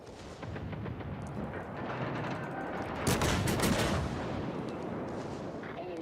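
Naval gunfire from the IJN Mogami, a Tier VIII cruiser in World of Warships, rumbling as a dense, continuous barrage of booming salvos with a stronger burst partway through, loud throughout.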